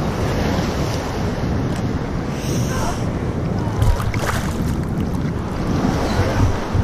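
Sea waves wash continuously at Ashkelon beach, a broad rushing surf mixed with buffeting wind noise on the microphone, steady and fairly loud throughout.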